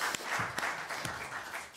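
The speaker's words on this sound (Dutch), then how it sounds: "Applaus." Audience applause at a Dutch talk or debate on local politics, a short burst of clapping from a hall heard at moderate level with a few sharper claps standing out.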